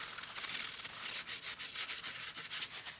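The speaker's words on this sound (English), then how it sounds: "Feel free to give your PCB board one last rub of steel wool before you start soldering." Steel wool scrubbed across a copper-clad PCB before soldering, a dense hissing scratch of quick back-and-forth strokes, close and steady, with no talking.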